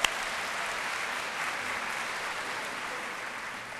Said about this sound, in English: let's give Monica a round of applause